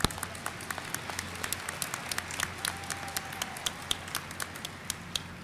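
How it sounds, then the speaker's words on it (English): An audience claps at a college commencement ceremony for the 2020 and 2021 graduating classes, a moderate crackling patter of hands heard from a distance, steady and without cheering. "You can clap."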